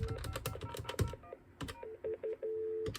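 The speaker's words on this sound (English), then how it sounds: "So let's dial *72 and let's forward our calls to the ISDN phone." Telephone keypad dialing *72 for call forwarding on a custom TDM phone switch built with Dialogic voice boards: a few clicks, then four steady DTMF tones, three short and evenly spaced and a longer final one, clear and close.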